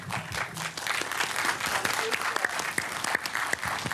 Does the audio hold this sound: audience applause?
yes